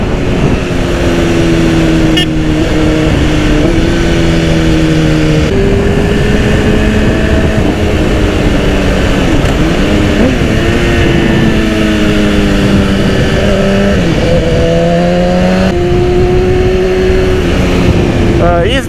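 A 2010 BMW S1000RR motorcycle with quick shifter, its engine droning loud and close while riding, pitch rising and dropping through repeated gear changes, with wind noise.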